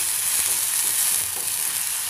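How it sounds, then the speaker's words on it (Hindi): Mixed vegetables and peas fry in hot oil in a pan, giving a steady, close hiss of sizzling with faint stirring scrapes and no talk. "एक मिनट के लिए भून लेती हूँ,"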